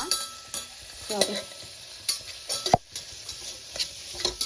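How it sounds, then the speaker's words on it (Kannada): Food stirred and frying in a pan until light brown, for a temple-style pumpkin sambar, with a soft sizzle under repeated scraping and clinking stirs of a utensil against the pan, no voices. "ಅದನ್ನ ಹಾಕೊಂಡು ಅದು ಲೈಟ್ ಬ್ರೌನ್ ಆಗೋವರೆಗೂ ಬಾಟ್ಕೊಳ್ಳೋಣ"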